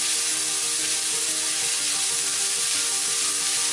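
Onions and garlic sauté in a pan for a Mediterranean-style sea bass, giving an even, loud, continuous close sizzle with no pauses.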